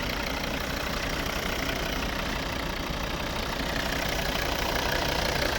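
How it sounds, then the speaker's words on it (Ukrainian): A 2012 Volvo V40 D3 with a 2.0-litre five-cylinder diesel engine idles under an open hood, a steady, even hum with a low mechanical clatter that runs without any change throughout. "Ось робота двигуна."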